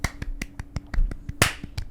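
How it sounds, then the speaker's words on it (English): A small group gives a soft golf clap, about ten sharp, evenly spaced light claps in under two seconds, close and dry with no talking. "Can we give a golf clap?"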